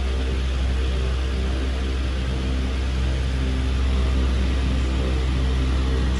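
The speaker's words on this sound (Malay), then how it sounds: "Blender." A steady, loud whirring drone runs continuously without pause, a motor spinning at constant speed close by.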